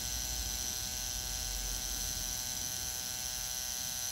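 A permanent makeup machine hums during lip tattooing, a steady faint high-pitched electric buzz running unbroken with no voices.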